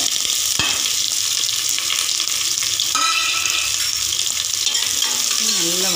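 Curry leaves crackle and sizzle loudly in hot oil for a mutton curry, a dense, continuous frying hiss close up with no talking.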